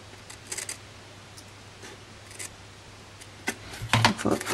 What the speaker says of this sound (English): Just bring your scissors in and follow the line of the box.